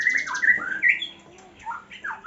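A white-rumped shama sings close by in soft, varied warbling phrases with squeaky notes and short pauses.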